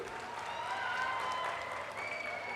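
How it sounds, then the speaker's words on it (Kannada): A crowd at a public function claps steadily, a sustained wash of applause heard from a moderate distance, fairly faint, with a voice faintly audible beneath it. "ಬಹುಶಃ ನೀವೆಲ್ಲ ಚಪ್ಪಾಳೆ ತಟ್ಟೋದು ನೋಡಿದ್ರೆ"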